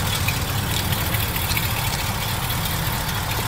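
A 1967 Ford Mustang's 390 V8 idles through a stock exhaust with a steady, deep rumble, continuous and fairly loud throughout, with no voices.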